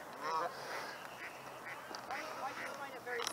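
Several ducks, mallards among them, quack in a Seattle neighborhood: repeated nasal calls close by, some overlapping, with people talking over them.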